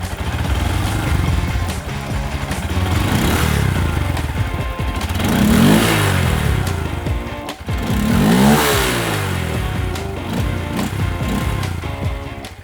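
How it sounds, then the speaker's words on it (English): Motorcycle engine revved hard with no load while fitted with a 3D printed rear sprocket, close and loud, rising in two strong surges with pitch sweeping up and falling back between them. "Let's give it a few revs."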